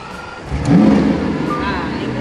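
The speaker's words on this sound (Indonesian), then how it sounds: "Nah, ini merupakan mobil yang paling berisik. Lamborghini yang paling berisik sebenarnya." A Lamborghini Aventador on its original exhaust gives a short, loud rev that rises and then settles into an idle, heard up close with people talking around it.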